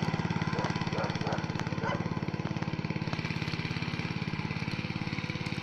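Motor Sich MB-9E walk-behind tractor driving in second gear while harrowing a field, a close, steady single-cylinder engine chug with rapid even pulses throughout.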